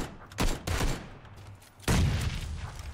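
Gunfire in PUBG, fired through windows during a firefight near a bunker, comes as two loud bursts of rapid close shots with a short gap between them and a fading tail after each.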